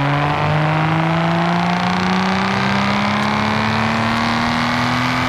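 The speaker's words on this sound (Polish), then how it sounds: "to jest V12, którą lubię, a nie ten taki pisk z czwórki" A supercharged V12 car engine in Forza Horizon 5, droning loudly and continuously with a rising, smooth multi-layered tone as it accelerates, close and without pause throughout.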